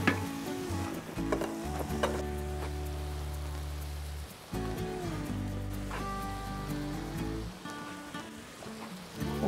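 Broth from a kazan poured into a sizzling vegetable fry for borscht, giving a soft, crackling sizzle like light rain that runs throughout, with a tonal hum beneath it.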